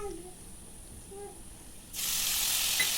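Two garlic cloves hit hot oil alongside fish in a pan. After a quiet start, a loud, steady sizzle bursts in and holds to the end.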